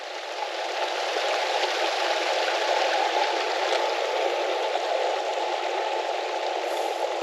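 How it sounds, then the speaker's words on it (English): A mountain stream in Glencoe rushes steadily, a constant broad watery hiss close to the microphone with no pauses and no voices. "just one of these streams, I just love the noise of them"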